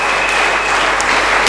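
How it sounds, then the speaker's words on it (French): A church congregation at a thanksgiving service claps together in dense, loud, continuous applause that fills the short moment. "Tout le monde est en train d'applaudir."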